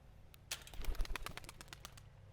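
Pigeon released from a dog-training bird launcher, a quick burst of clattering wingbeats close by that fades into a few lighter flaps, faint and alone.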